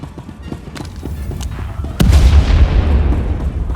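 Heavy weapons fire in Star Wars: The Old Republic, a low rumbling barrage that builds and then breaks into a single loud boom, followed by sustained deep thunder and crackle.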